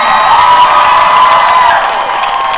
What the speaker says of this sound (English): we have a lot of applause to give these ladies right now